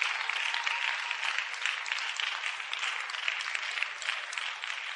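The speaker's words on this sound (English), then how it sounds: "let's give Simona a round of applause" An audience at a sanctuary podcast claps in sustained, dense applause, evenly loud from start to end with no voices standing out.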